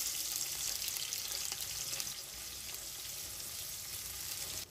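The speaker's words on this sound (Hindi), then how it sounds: "ऑयल जब गर्म हो जाए 2 मीडियम साइज़ के प्याज ऐड करेंगे" Two medium sliced onions hit a quarter cup of hot oil for mutton pulao, making a faint, continuous hiss of frying that eases slightly partway through, with no voices.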